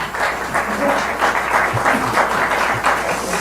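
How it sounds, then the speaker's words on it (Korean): Crowd applause at a Korean political forum honoring party leaders, steady dense clapping filling the room at an even loudness throughout, with a faint voice briefly audible underneath. "다시 한번 큰 박수 부탁드리겠습니다"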